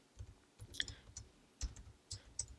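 Irregular clicking keystrokes tapped on a computer keyboard while setting up an email campaign, faint and close, coming in short bursts with pauses, no voices.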